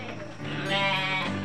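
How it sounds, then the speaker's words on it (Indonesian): A Javanese goat bleats loudly and continuously on a goat farm in Bogor, a drawn-out, wavering cry lasting the whole moment with no talking over it. "Oh, ada ini kambing Jawa nih, guys."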